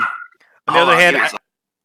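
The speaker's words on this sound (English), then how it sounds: "that's my dog" A pet dog gives a single loud, close bark lasting about half a second, just after a brief scrap of voice.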